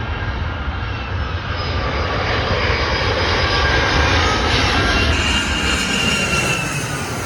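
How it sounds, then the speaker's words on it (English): An Icelandair Boeing 757-308 passes at O'Hare, its jet engines delivering a loud, sustained roar with a rising whine that swells and holds over several seconds, with no talk. "we got a Boeing 757-308 Iceland Air from Reykjavik"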